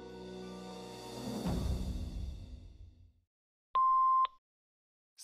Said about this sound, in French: laisse-nous un message après le bip